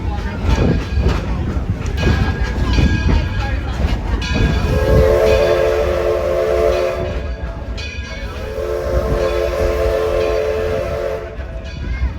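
An 1870 Manchester steam locomotive runs on the Greenfield Village Railroad, with heavy rolling rumble and chuffing, then two long, loud blasts of its steam whistle separated by a short pause, under some background talk.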